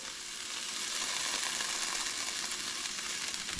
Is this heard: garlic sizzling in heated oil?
yes